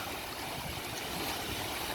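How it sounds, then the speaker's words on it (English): Steady rushing water washes along the shore continuously, a broad even wash of sound with no voices and no breaks. "I love the sound of the water."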